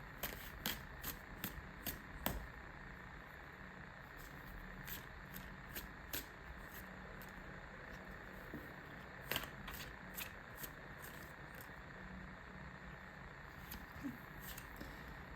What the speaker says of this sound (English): I'm going to shuffle, get a few more here.